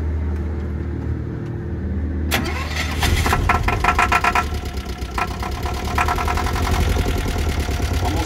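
A boat's engine, which also drives a generator, starts partway through over a low steady hum. It then runs and revs loud and close, with a rough, pulsing mechanical rhythm.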